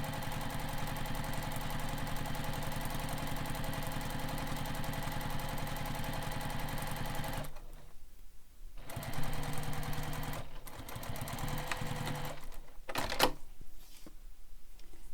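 A sewing machine top stitches a backpack strap with a steady, close mechanical whir for about seven seconds, then runs again in short stop-start bursts with brief pauses between them.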